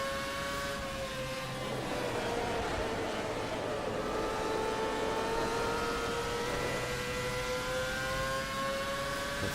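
A race car engine in a sim racing game drones steadily as the car leaves the pit lane, its tone gliding smoothly with throttle changes, a continuous mid-level whine with no talk.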